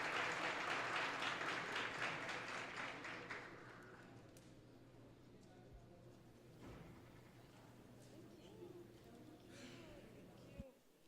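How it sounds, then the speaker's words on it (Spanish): Audience applause for conference panel members at a legal dispute-resolution panel, loud and dense at first, then fading out after about four seconds into quieter room noise. "we would like to thank them with a round of applause."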